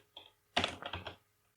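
A quick burst of keystrokes on a computer keyboard as a terminal command is typed, a single isolated tap leading into a dense cluster of clicks and then one last stroke, with no talking.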